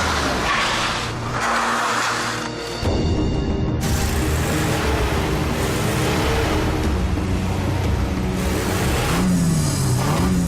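People carrier race cars, including a diesel Nissan Serena, roaring past on track with engines revving, shifting pitch and tyres squealing, loud and close with a brief lull midway.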